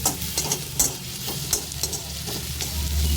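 Chopped ginger frying in a pan over a raised gas flame, a steady close sizzle broken by regular scraping strokes of a spatula.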